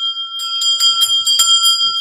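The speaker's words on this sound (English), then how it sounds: "Oh, yeah, ring the bell." A bell rung repeatedly in a quick series of bright, ringing strikes, loud and close, each tone lingering into the next.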